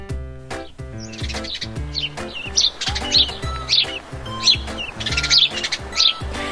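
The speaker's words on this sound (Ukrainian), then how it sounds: "Горобець цвірінькає. Цвірінь." Bright, repeated chirps from a sparrow, rising over a steady rhythmic musical backing with a pulsing beat.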